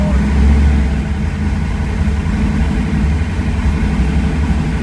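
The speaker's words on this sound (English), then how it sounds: "It definitely doesn't like it with no choke on the motor." A cold car engine runs loud and close without its choke, a steady low rumbling idle that holds throughout with no clear revving.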